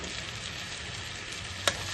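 Whole cardamom, cinnamon, bay leaf and cumin sizzle in hot oil with a faint, steady hiss. A single sharp crackle pops out near the end.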